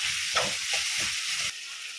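Tomatoes sautéing in a pan for tomato chutney with onions and chillies, a steady close sizzle and hiss broken by a few soft stirring scrapes, then a quieter sizzle near the end.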